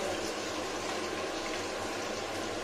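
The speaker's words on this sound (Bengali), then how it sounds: "দেখুন কি সুন্দর শক্ত শক্ত হলো ভাজাটা। মাথা ভাজা" Mrigal fish head frying in oil, a steady, dense hiss of sizzling that runs without a break at close range.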